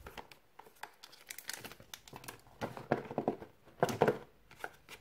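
The box of a Bluboo D5 Pro phone is being unpacked up close, with quiet rustling and crinkling of packaging and paper in irregular bursts and no talk.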